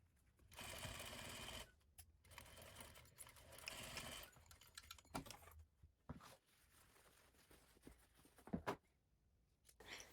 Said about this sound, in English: Let's sew the waistband.